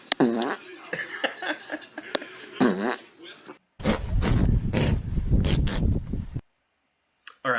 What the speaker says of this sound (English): animals farting is even funnier